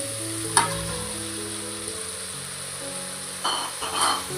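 Half a kilo of chicken and vegetables sauté for Kerala-style chicken stew, an even sizzling hiss with a sharp stir near the start and a couple of scraping stirs toward the end.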